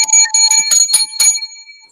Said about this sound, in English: 7 lucky hotel bells.